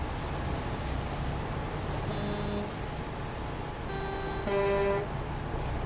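Car horns toot twice in short bursts, a few seconds apart, over steady engine rumble and road noise at an Oklahoma car cruising event, moderately loud and nearby.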